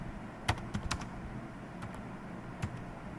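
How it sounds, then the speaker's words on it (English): A few sparse keystrokes tap on a computer keyboard, close and fairly quiet, with short clicks spaced irregularly over a low room hum. "Then I can type that Anthony"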